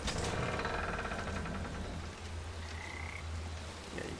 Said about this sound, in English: you can hear the frogs again, it's pretty cool.